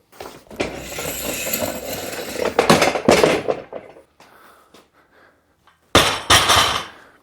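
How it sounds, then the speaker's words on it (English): Rubber bumper plates hit the floor with heavy, dull thuds, a series of loud impacts that settle and die away, followed by a pause and then two more sharp drops. "they're bumper plates, so let's drop them"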